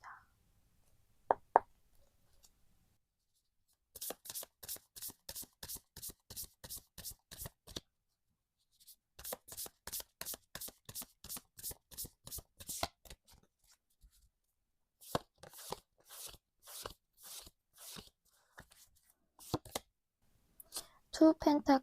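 Tarot cards being shuffled by hand, bursts of rapid crisp riffling flicks in several runs separated by short pauses, close and quiet, with soft speech in between.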